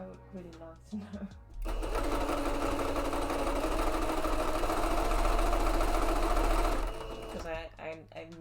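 Sewing machine stitching fabric for clothing mock-ups: a few light handling clicks and taps, then a loud, even motor whir runs for about five seconds before stopping, followed by more small clatters.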